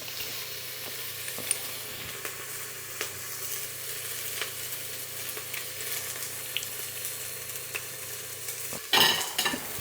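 Garlic sautés with onion in a pan, a steady moderate sizzle with a few light stirring clicks, then a sudden louder scrape or clatter near the end.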